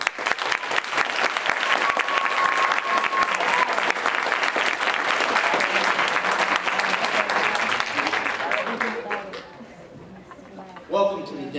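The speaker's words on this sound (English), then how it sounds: "give a round of applause to these graduates" Audience at a GED graduation ceremony in Downtown Brooklyn applauds the graduates, a loud, dense clapping sustained for about nine seconds before fading, with a brief burst near the end and some voices mixed in.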